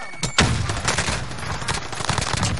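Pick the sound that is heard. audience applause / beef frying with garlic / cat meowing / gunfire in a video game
gunfire in a video game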